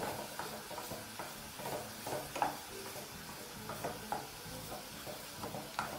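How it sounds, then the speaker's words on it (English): Minced meat sizzles over high heat in a frying pan as it is stirred and tossed back and forth, a continuous close hiss broken by soft scraping and rhythmic shuffling strokes. "you can actually proceed to just continue tossing the pan back and forth"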